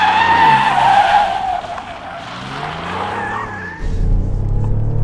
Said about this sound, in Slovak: Musím skôr na brzdy trošku, predsa len toto sú ťažkotonážnici.